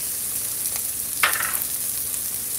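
Saltfish frying in a pan, a faint steady sizzle with a brief louder crackle partway through.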